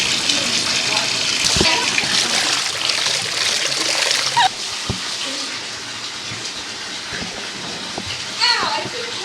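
Water splashes and trickles in a bathtub while hair is shampooed, loud and near with running water and sloshing bursts, and people talk over it.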